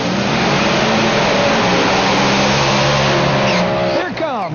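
A Top Dragster race car roars at a PDRA drag race in Virginia, its engine a loud sustained blare with rising pitch sweeps near the end as it accelerates away.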